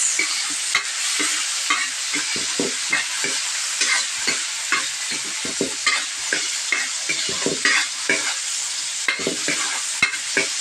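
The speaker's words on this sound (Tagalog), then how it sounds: "Magisa tayo ng bawang, sibuyas, luya, Lagay na po natin ang kamatis." Garlic, onion, ginger and tomato sautéing in a pan on a charcoal stove, a bright hissing sizzle broken by rhythmic scraping stirs of a spatula, close and loud, with no talking.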